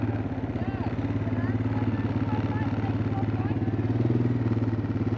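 Quad bike engine idling nearby with a steady low pulsing throb and light clatter, running continuously under faint background sound.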